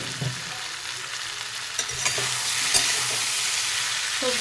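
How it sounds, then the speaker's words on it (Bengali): Drumstick vegetable pieces and potatoes fry in a pan with a steady, even sizzle and a few soft stirring scrapes; no voices. "সবজিগুলো ভালো করে ভেজে নিয়েছি"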